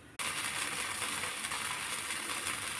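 Drumstick leaf dosa batter hits a hot griddle, and a sudden loud sizzle starts after a brief quiet moment. The close, dense hiss then carries on steadily with no speech.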